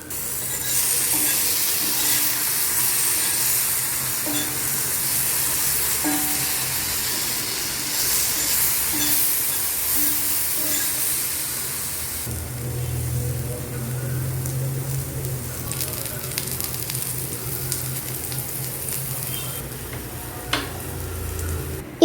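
Sweet potato roasting in a pan with jaggery sizzles and crackles steadily and close up, with occasional stirring clicks, then settles into a lower, denser fry.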